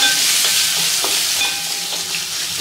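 Green peas sizzle in a hot pan while a spoon scrapes through them, several distinct stirring strokes over a constant frying hiss, close and loud.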